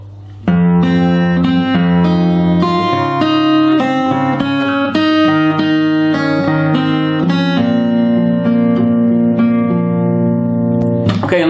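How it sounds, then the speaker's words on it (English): Fingerstyle guitar plays the closing four bars of a song from Frozen, a steady flow of plucked melody notes over bass strings, close and alone, ending on a final chord. "the whole of these last 4 bars should sound like this"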